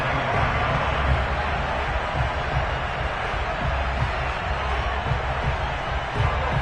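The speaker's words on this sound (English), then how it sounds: "this crowd has certainly liked what they've seen" A football stadium crowd roars in a steady, dense wash of cheering and murmur during a Washington game, with no single voice standing out and a few swells in volume across the stretch.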